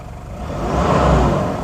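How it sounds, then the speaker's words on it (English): A steady engine whir gradually swells louder, a rising fan-like rush of air from a viscous engine fan over a low motor hum, in a Toyota Granvia. "It has a viscous fan."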